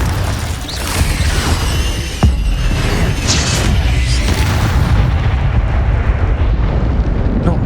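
Confringo fire spell in Hogwarts Legacy, a loud booming blast with rumbling, crackling debris that keeps roaring and sustains for several seconds, with a sharp burst partway through.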